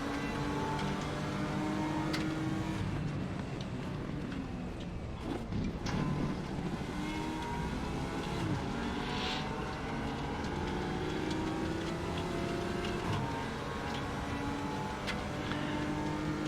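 A KTM race car engine drones steadily in the racing game RaceRoom, a sustained buzzing whine that rises and falls through gear changes and cornering, moderately loud throughout with no talk.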